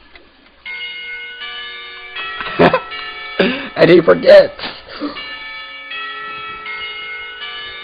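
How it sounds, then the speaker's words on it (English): In a Katawa Shoujo visual novel, a school lunch bell chime rings in sustained tonal layers through the whole stretch, while a voice talks over the middle section. "The lunch bell sounds"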